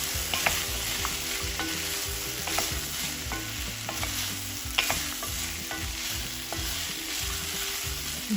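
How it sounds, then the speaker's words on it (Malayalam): A vegetable soup base with vegetable stock and ground garam masala is stirred as it roasts in a pan, giving a continuous close sizzle and repeated scraping strokes, with music playing underneath. "ഇത് ഇളക്കിക്കൊണ്ടിരിക്കുക."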